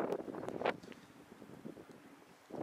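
Wind blows at an outdoor wild camp, buffeting the microphone in steady low gusts with a few rustling bursts, no talking.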